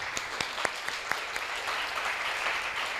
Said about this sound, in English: Can we just give everyone a round of applause?